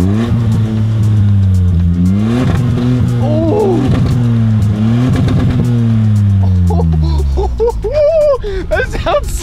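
Straight-piped Ford Bronco Sport with a 1.5-liter three-cylinder engine and the muffler removed, revving repeatedly: loud, raspy exhaust that rises and falls in pitch through several close-up blips, with voices partly over it toward the end.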